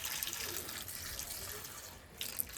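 Potted plants being watered: a steady, close rush of pouring water splashes into soil and leaves, loud and continuous with a brief dip near the end, and no speech.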